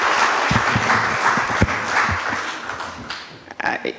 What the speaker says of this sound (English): Let's give a hearty hand clap to the poet and the musician.